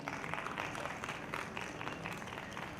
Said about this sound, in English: A huge round of applause to Dr. Sunil.